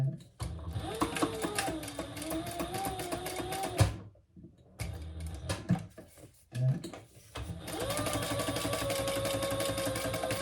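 A sewing machine topstitches a seam on a sewing pattern project in bursts of rapid, even needle chatter with a motor whine. Brief pauses break the run before it resumes, close and fairly loud, with no talking.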